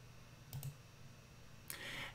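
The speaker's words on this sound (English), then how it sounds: "We can do that simply by clicking a couple buttons" A few computer mouse button clicks while connecting a crypto wallet and signing in: a quick pair of soft clicks, then a single sharper click a second later, faint and close in a quiet room.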